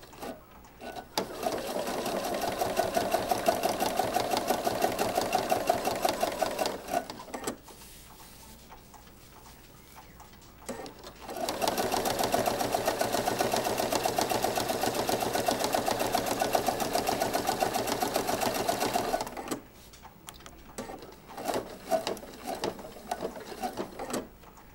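A sewing machine stitches one side of a welted pocket in two long steady runs, rapid and fairly loud, with a quiet pause between them and brief starts and stops near the end.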